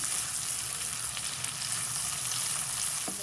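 Ginger garlic paste fries in a pan for an egg korma, giving a steady, close, loud sizzle that crackles evenly without a break and without voices.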